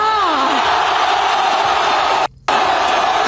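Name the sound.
crowd shouting and cheering at a rally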